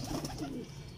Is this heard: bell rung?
no